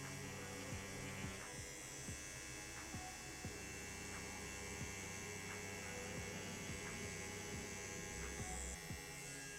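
A Bishop Packer Wand tattoo machine runs with a steady, faint electric buzz and hum, with soft periodic ticks and light handling noises throughout.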